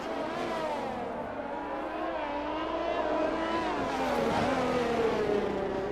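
A Ferrari race car in a racing video game, engine droning and shifting pitch as it runs off track, with other car engines blending in and a steady mechanical hum throughout.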